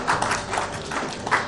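An audience at an environment conclave in Karnataka applauds as an MLA is welcomed on stage, a moderate, steady patter of clapping with a couple of brighter swells, heard at a distance.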